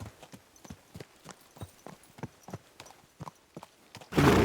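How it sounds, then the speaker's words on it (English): Horse hooves clip-clop at a steady trot while riding in the video game Kingdom Come Deliverance II, a clear, even rhythm of close hoofbeats ending in a sudden burst of noise. "Dando uma volta de cavalo só pra liberar esse mapa."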